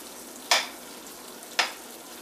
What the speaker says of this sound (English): Now you leave it sizzling for like another good minute or 2